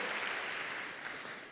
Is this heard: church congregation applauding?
yes